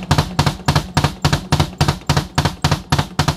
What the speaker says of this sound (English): I'm just sliding forward and that bass is just bouncing twice off of there